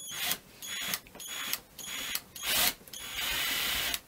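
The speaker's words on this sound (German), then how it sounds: "Und dazu braucht ihr am besten einen Akkuschrauber" A cordless screwdriver driving small screws through the base of a DIY storage piece, heard up close as a series of short, whirring bursts of varying length separated by brief pauses.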